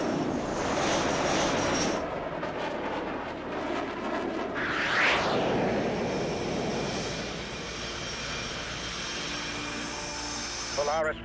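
Jet aircraft engine in the video game Tom Clancy's H.A.W.X 2 roars loudly and steadily, swelling briefly midway, with radio voices talking over it.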